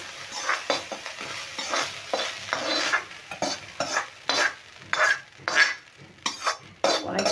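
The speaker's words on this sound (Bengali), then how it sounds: "দিয়ে কড়াইয়ে তেল ঘিটা আমি মিশিয়ে নিলাম।" A spoon or spatula stirs rice through ghee and oil in a metal wok in a home kitchen, giving rhythmic scraping strokes and clinks over a soft sizzle, close and steady.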